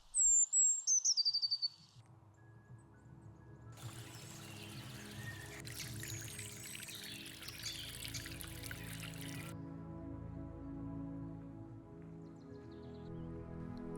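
Songbirds such as chaffinches and robins sing in a spring forest, a bright burst of chirping notes at the start, then giving way to a soft trickling, pouring wash with sustained tones.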